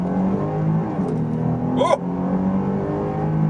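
A 2022 Jeep Grand Cherokee Laredo engine pulls hard under acceleration with a steady rising drone heard from inside the cabin, and one short excited exclamation breaks in midway.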